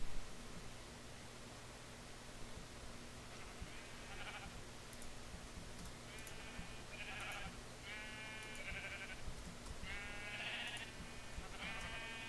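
Sheep in Minecraft give several short bleats, spaced a second or two apart at moderate volume, over a constant low hiss and hum, with no talk.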